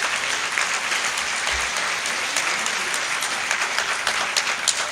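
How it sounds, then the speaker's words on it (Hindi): Continuous, energetic clapping from the audience at a Panchgavya conference in Dwarka, honouring a doctor, a full hall of many hands holding steady with a few sharper claps standing out. "जोरदार आप तालियों से इनका उत्साह बढ़ाएं।"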